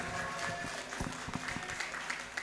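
Applause from an alumni gathering in a Bandung hall, scattered claps at a moderate distance with a few sharper nearby hand strikes, brief and fairly quiet.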